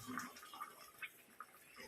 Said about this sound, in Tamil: குழம்பு கொதிக்குதுப்பா